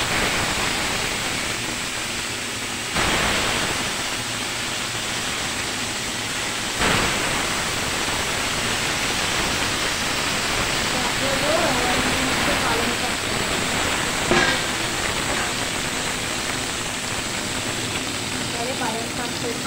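Whole fish fries in a smoking-hot wok with a loud, dense, unbroken hiss of spitting oil that holds steady throughout, with a few brief bumps.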